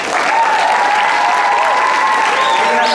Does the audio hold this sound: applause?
yes